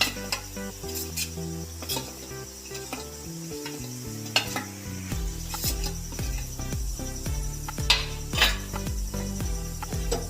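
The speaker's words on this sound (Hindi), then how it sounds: "इन सब स्पाइसेस को हम ऑयल में मिक्स कर देते हैं" Spices, including coriander and cumin powder with salt, are stirred into hot oil for aloo lobia, sizzling steadily under repeated scraping and clinking of a spoon against the pan, with background music playing throughout.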